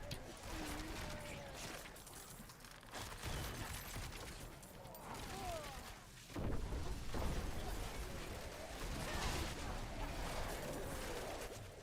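Rapid bursts and booming explosions from Diablo 4 combat, a dense, continuous barrage of pops and blasts with a heavier surge partway through, over a busy game soundscape.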